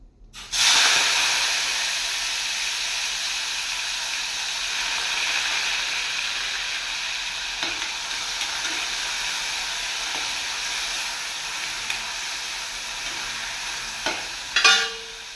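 Chopped tomatoes hit a hot pan for a moth bean sprout curry, bursting into a steady, close sizzle with stirring scrapes over it and a few sharp clicks of a spoon near the end.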